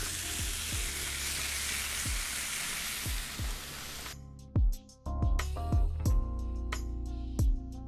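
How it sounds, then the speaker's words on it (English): A pork chop sizzles loudly on a hot, oiled grill pan for about four seconds. The hiss then cuts out, leaving quieter moments punctuated by a few sharp knocks and clatters of cookware nearby. "Put the pork chop on the grill pan."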